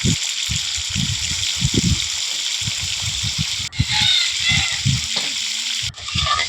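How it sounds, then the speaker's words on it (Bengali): Loud, steady frying sizzle of chicken in hot oil with crackling bursts and occasional scraping stirs, no talking. "গরম গরম তেলে কিন্তু মাংস ছেড়ে দিয়েছে"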